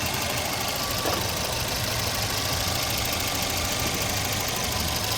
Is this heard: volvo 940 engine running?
yes